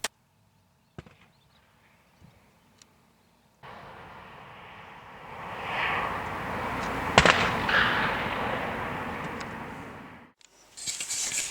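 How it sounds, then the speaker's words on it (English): Lithium batteries exploding in a serious car fire: scattered sharp pops over quiet, then a sustained roaring rush with a couple of loud cracking bursts before it fades and flares again. "the lithium batteries were exploding"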